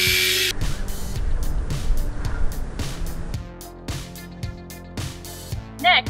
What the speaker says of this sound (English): Now it's time to drill your pilot hole.